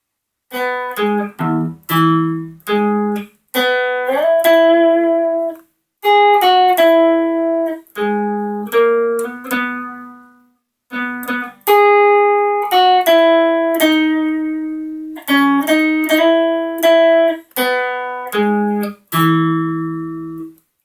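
A guitar picks out the American national anthem note by note, in short phrases with brief pauses between them, played alone with no voices.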